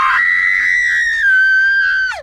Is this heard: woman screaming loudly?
yes